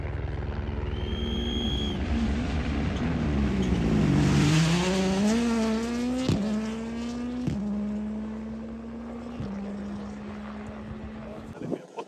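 A WRC rally car at the 2023 Rally Germany sweeps past with a loud rising then falling engine note and sharp gear-change cuts, while a helicopter chops overhead and spectators talk nearby.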